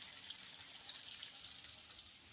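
Sweet potato fries simmer in hot oil with a faint, steady hiss and tiny popping crackles, close and quiet, with no voices.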